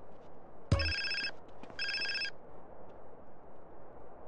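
A mobile phone rings in the game GTA San Andreas: two short electronic ringtone bursts sound close and fairly clear over a low, pulsing background hum.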